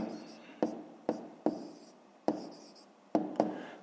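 Pen strokes scratch across paper as fractions are written out for a fifth-grade maths exercise, with several short scratchy bursts at close range, each starting with a tap, under quiet talk.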